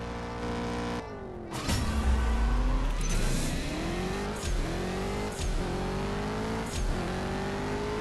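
A Porsche in the CSR2 racing game revs hard at the launch, then accelerates through rising engine whines broken by sharp gear shifts, loud and close throughout.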